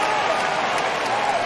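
A baseball stadium crowd fills the air with steady, dense applause and cheering after a foul ball call in a Blue Jays versus Orioles game, with a commentator talking over it.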